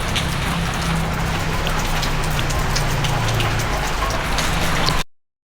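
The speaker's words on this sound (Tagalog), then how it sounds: "Grabe yung ulan." Heavy rain pours down in Bali during a flood, a loud, dense and continuous roar of drops drumming on a surface, with no voices, cutting off abruptly at the end.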